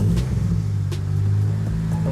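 A Toyota Celica engine with a freshly cleaned idle air control valve and MAF sensor runs close by, a steady low rumble holding an even idle just after starting.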